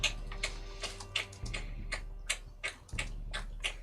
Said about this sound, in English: ticking of a clock, something more like a mechanism that's moving